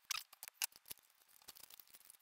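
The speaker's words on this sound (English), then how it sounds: "Scissors are a terrible way to cut things like this." Scissors snip plastic nearby in a quiet room, giving a series of short, crisp, irregular cuts that grow fainter and denser toward the end.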